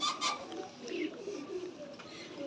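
Two sick pigeons suffering from the cold make faint, low cooing murmurs at close range in a quiet room.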